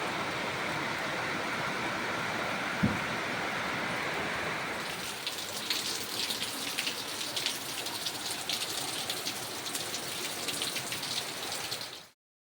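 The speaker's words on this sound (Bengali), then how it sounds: "আবার জোরে বৃষ্টি নেমে গেল" Heavy rain pours in a steady, dense hiss, then turns into sharper pattering on surfaces nearby, continuous for about twelve seconds before cutting off abruptly.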